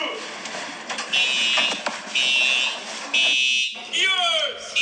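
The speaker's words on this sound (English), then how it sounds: "The fire alarm just went on." A fire alarm at a Chuck E. Cheese's restaurant sounds in repeated loud, shrill electronic beeps, roughly one second each with short gaps, while a person talks over and between them.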